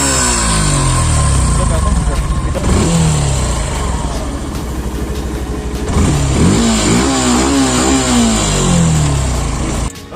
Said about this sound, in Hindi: तो गाइस एग्जॉस्ट सुन लीजिए थोड़ा यहाँ पे।